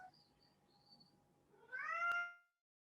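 A house cat meows at a door, one rising, drawn-out cry near the end after quiet indoor background, moderately close.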